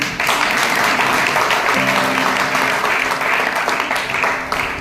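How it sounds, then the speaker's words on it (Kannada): A seminar audience claps loudly and steadily throughout, a dense, continuous wash of applause from many hands with no gaps. "ಬಳ್ಳಾರಿ ಬಿಟ್ಟು ಉಳಿದವರೆಲ್ಲ ಜೋರ ಚಪ್ಪಾಳೆ ತಟ್ತಾರೆ"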